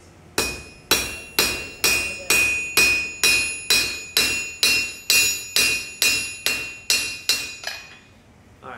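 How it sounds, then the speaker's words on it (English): Hammer blows forge metal on an anvil during a blacksmithing demonstration, about fifteen loud, ringing strikes in a steady rhythm of roughly two per second, close up, each with a bright metallic ring that decays before the next. "So the hammer blows are like this, so I'm not touching that point at all."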